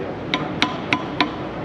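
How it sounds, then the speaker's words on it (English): A brass hammer taps metal on a plow during fabrication, four sharp, evenly spaced strikes ringing close and clear over a low background hum. "I got a brass hammer over here."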